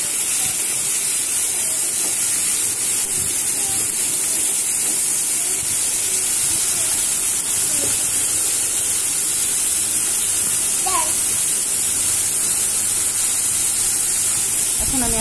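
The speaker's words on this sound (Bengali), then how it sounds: "এখন নেড়ে চেড়ে একটু কষিয়ে নিই।" Onion and garlic paste sizzles steadily in hot oil while being stirred and fried, a continuous loud hiss with occasional scraping of a utensil, and a voice speaks faintly at times.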